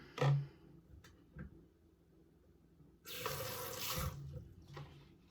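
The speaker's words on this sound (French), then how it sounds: "je veux juste mettre un tout petit peu d'eau dans le fond" Water runs briefly from a tap into the bottom of a pot, a soft hissing splash lasting about a second, surrounded by faint knocks and handling sounds in a quiet room.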